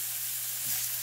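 Carrots and onion frying in avocado oil, a steady bright hiss of sizzling filling the short stretch, with a low hum underneath and a faint clink near the end.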